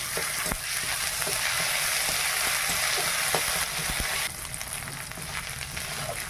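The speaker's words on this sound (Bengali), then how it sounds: "মশলা ভাজা হয়ে গেছে" Ginger-garlic paste and spices fry with onions in a hot pan, a dense close sizzle with intermittent stirring clicks that softens slightly partway through.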